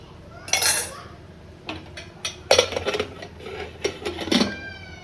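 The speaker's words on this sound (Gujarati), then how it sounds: "હવે કુકર કરી દઈએ બંધ." Metal clanks and clinks as a pressure cooker lid is shut over potato and onion curry, a few sharp knocks spread across a few seconds, close and moderately loud.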